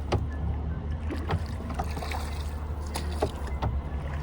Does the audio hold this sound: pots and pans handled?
no